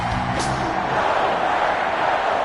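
Stadium crowd at a Detroit Lions versus Green Bay Packers football game in a video game, a steady dense roar of cheering and whooping that stays loud throughout with no break.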